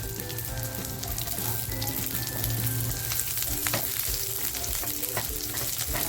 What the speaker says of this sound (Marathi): मागल्या फ्राय करून तेल राहिलं होतं ना त्याच्यातच लसूण टाकते थोडासा कांदा टाकते